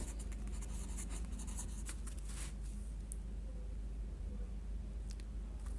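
A pen or marker scratches across a board in quick strokes during a geometry lesson on cylinder surface area, with soft irregular scraping over a steady low room hum and no speech.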